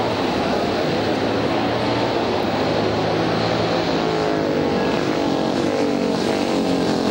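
Steady, loud engine roar of classic motorcycles, including a 1959 BSA, racing past in a street race, a continuous mechanical drone with shifting pitch and no pauses.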